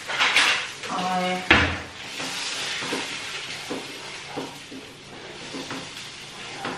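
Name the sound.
frying ginger, green chili and peas filling for kachori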